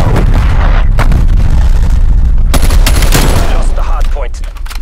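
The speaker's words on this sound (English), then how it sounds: "Hostile artillery targeting active. Net call. Incoming artillery." A hostile artillery strike thunders in Call of Duty: Black Ops Cold War hardpoint play, loud continuous booming blasts and rumbling explosions overlapping for several seconds before easing slightly at the end.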